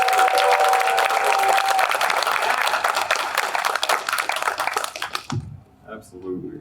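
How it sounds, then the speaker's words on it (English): Audience applause at a VTuber convention panel, a loud sustained wash of many hands clapping that fades out at the end, with a short spoken word or two under the tail. "please give her a big round of applause"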